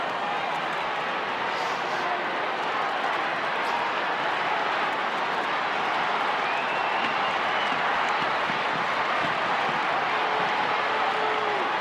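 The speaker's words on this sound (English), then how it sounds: "Terrific crowd tonight, and they are in full voice now" Roaring crowd of about 30,000 at the 2006 AFL NAB Cup Grand Final between Adelaide and Geelong, a steady, dense wall of cheering and applause that holds for the whole stretch with no pause.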